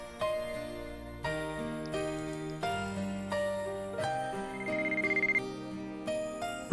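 A phone ringtone plays in the visual novel game White Album 2 CODA: a bright electronic melody repeats its chiming phrase about every second, steady and clear with no voices.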